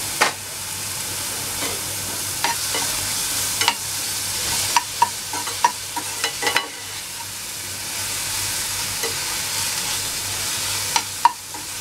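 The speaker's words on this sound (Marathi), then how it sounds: "थोडंसं परतून घ्यायचं आहे खूप नाही परतायचं आपल्याला थोडंसं का लसणीचा आणि कांद्याचा कच्चेपणा निघून जाणार एवढं" Garlic paste and onion sautéing in a pan for a snake gourd bhaji, a steady close hiss of frying with scattered sharp clicks and scrapes of a spoon stirring, no talking.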